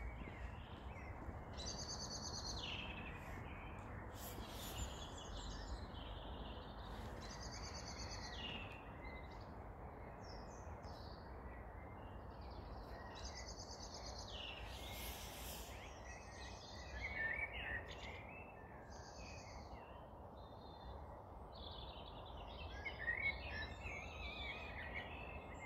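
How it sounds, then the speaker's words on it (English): A bird sings outdoors around nine in the evening near a street lamp, bursts of high chirping calls repeating over a steady, loud wash of background noise through much of the stretch. "5 minutes to 9 p.m. and bird still out a sing."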